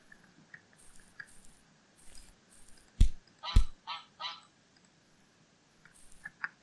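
An ender duck in a Minecraft-style game lets out a run of honks: two sharp loud blasts followed by three shorter quacking calls, framed by faint scattered game noises before and after.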